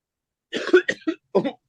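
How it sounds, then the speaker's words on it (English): A short burst of coughing after deeply inhaling essential oils, several harsh hacks in quick succession, close and fairly loud, then a final pair of coughs after a brief pause. "Be prepared to cough a little bit here"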